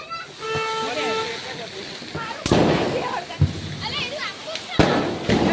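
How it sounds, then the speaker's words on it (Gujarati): Diwali firecrackers go off at a family celebration: three loud, sharp bangs a second or so apart ring out among whistling fireworks, with people talking and calling out nearby. "દક્ષુ ફટાકડા ફોડો"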